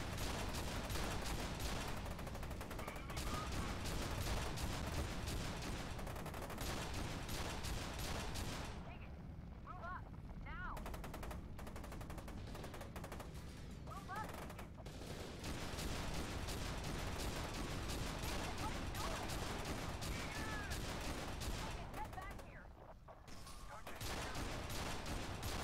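Mounted gun firing in the video game F.E.A.R. 2, a long, loud, continuous barrage of rapid shots with mechanical clatter, briefly easing off twice, as a voice talks underneath.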